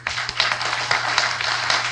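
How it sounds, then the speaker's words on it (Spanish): Sustained applause for panelists at an economic forum in Costa Rica, a dense wash of many hands clapping with no voices over it. "un aplauso para todos los panelistas"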